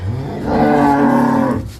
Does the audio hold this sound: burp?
no